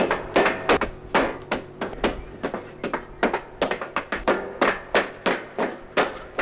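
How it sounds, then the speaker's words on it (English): Clunky metallic footsteps running through a spaceship corridor in a 1965 science-fiction film, a quick irregular series of hard thuds and taps, close and fairly loud, with no talking. "I also appreciate that clunky metallic noise you hear whenever anyone runs through the ship."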